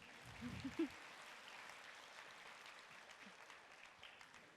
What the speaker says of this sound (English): You can give him a round of applause as well.